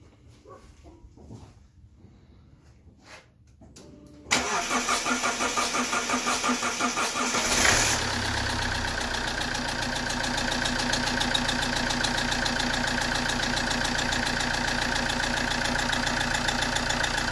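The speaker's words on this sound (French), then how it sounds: "Donc nous allons procéder au démarrage du véhicule." An Alfa Romeo 1.9 JTD 16v diesel engine, checked after a timing belt failure, is cranked and fires up after a few quiet seconds, then settles into a steady, loud, even idle with no clatter.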